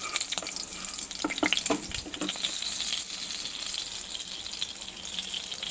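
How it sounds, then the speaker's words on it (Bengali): Panch phoron spices and a chili split in two sizzling in hot oil left from frying eggplant, a steady close hiss broken by scattered crackles and pops, with no talking. "ওই তেলে দিয়ে দিলাম 5 ফোড়ন, দিয়ে দিলাম একটা লঙ্কা 2 টুকরো করে"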